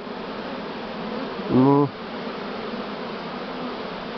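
A large swarm of Buckfast honey bees hums in a continuous close drone, and someone briefly speaks over the buzzing.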